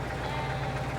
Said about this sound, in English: Sheep as far as the eye can see.